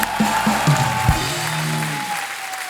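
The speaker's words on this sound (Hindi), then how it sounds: "बहुत जोरदार तालियां हो जाएं हमारे मेहमानों के लिए।" Studio audience applause for guests on a TV comedy show continues under music with low tones, fairly loud and fading slightly toward the end.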